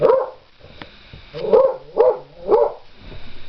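A dog barks at a cat in a garden setting: a few sharp, close barks in quick succession, with brief pauses between.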